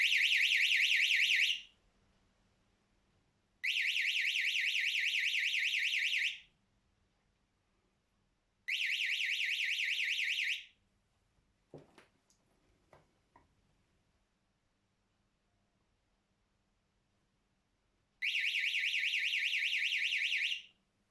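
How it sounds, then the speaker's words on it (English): A BrightSparks kids' module security alarm circuit set off by a magnet over a magnetic switch: four loud, piercing electronic tones of about two seconds each, separated by silent gaps, with a few faint handling clicks midway. "So we've created a security alarm using these components."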